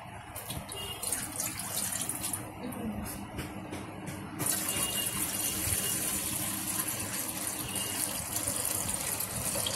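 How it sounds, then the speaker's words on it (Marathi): Water gushes steadily from a bottle into a cooking pot while making ukadiche modak, a continuous close splashing pour that grows fuller and louder about halfway through, with no talking. "एक बॉटल पाणी टाकायचं."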